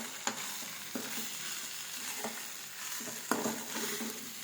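Sheep blood fries in a pan with a constant soft sizzle, broken by a few spaced scraping stirs of a spatula, close and without voices.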